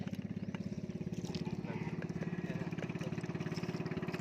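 Outboard motor of a boat out at sea, a steady close putter with a fast even pulse, running continuously under wind and water noise.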